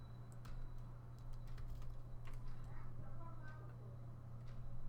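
Light clicking of computer keyboard keys in scattered short bursts, quiet and close over a steady low hum.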